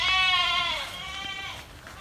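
Goats on a small tropical farm give a long, wavering, nasal bleat at close range, trailing off into softer bleats over a faint outdoor background.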